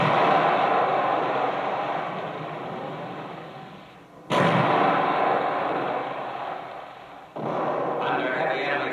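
Enemy gunfire during World War II combat bridge construction: a loud, continuous roar of firing and distant rumble, swelling twice with sharp onsets near 4 and 7 seconds, with no talk.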